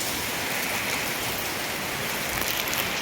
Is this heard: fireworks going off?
no